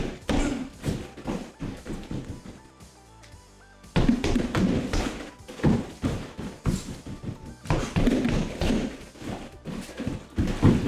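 Punches and kicks against a martial arts kick bag, thudding in rapid irregular bursts of combinations, close and loud, with a brief quieter pause in the middle.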